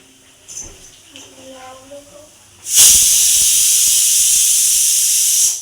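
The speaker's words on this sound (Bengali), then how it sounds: "ওখানে প্রেসারে ডিম সেদ্ধ হচ্ছে" A pressure cooker boiling eggs suddenly lets out a loud, sustained steam hiss that runs without a break to the end, after a quieter opening of faint tonal squeaks and background sounds.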